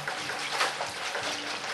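Warm melted butter mixture is poured into a bowl of dinner-roll dough, a brief, soft, steady liquid gush lasting under two seconds, close and quiet.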